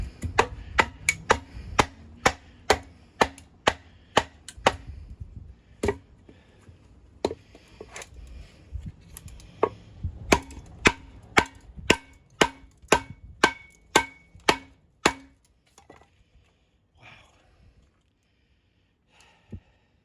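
A fixed-blade Workhorse knife by Bear Forest Knives is batoned through wood and into a knot, giving a long run of sharp, evenly spaced cracking strikes that thin out and stop near the end, with faint breathing between blows.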